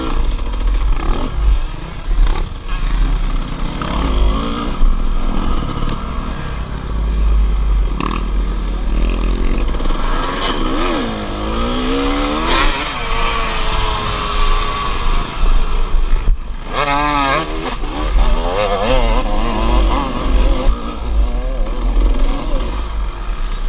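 Off-road motorcycle riding a GNCC race course at the John Penton event, moving onto the motocross section; a steady, loud engine drone rises and falls with throttle changes throughout, with rough wind buffeting and no talk.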